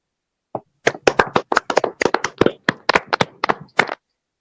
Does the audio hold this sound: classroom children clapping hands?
yes